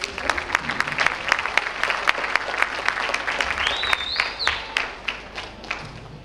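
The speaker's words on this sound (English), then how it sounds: "Another round of applause for this." An audience at a school graduation ceremony claps in a steady, loud round of applause, individual claps distinct and fairly near, tapering slightly toward the end with a faint whistle midway.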